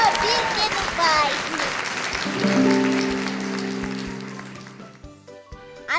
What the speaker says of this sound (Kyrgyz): Бир кол чаап коелук командаларга.